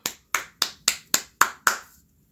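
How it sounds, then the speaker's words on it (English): Seven sharp hand claps from one person in a steady rhythm, close and crisp, each ringing briefly before the next, then stopping. "Give yourself a clap."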